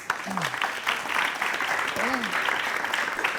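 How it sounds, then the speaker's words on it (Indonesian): A television studio audience applauds three panelists, a continuous round of clapping with a couple of voices calling out over it and some speech underneath. "Oke, tepuk tangan untuk 3 panelis"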